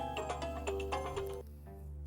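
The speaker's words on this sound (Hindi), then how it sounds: "मोहन बाबू का फोन" A melodic phone ringtone plays a quick series of bright chiming notes over a steady low hum, then fades.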